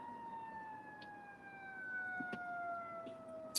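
Emergency vehicle sirens wail at a distance during a police chase, a faint steady tone slowly gliding downward over low street noise, with a few brief clicks and no talking.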